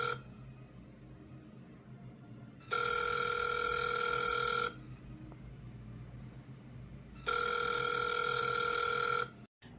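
A telephone rings in two long bursts of steady electronic trilling, loud and close, separated by a quiet pause with a faint background hum and no talk.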